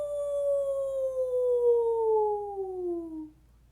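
A person imitates a single dog howl, giving one long, close, gliding howl that slowly falls in pitch and then stops.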